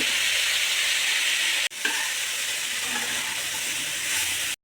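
Diced pumpkin and pre-boiled chickpeas fry in a pan with a steady, close sizzle and hiss, broken once by a brief stirring clack before the frying carries on alone.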